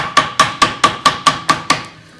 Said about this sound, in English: Cut the entire gasket out with a hammer.